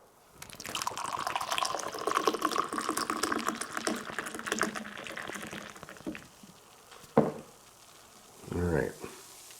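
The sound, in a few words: hard pour of Pepsi Nitro cola foaming up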